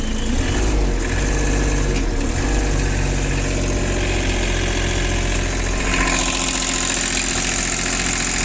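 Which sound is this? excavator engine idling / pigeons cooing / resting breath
excavator engine idling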